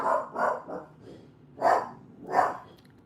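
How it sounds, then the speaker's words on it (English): A dog barks indoors at a passing mailman, five loud close barks: three quick ones, a pause, then two more spaced apart. "That's Maya's dog"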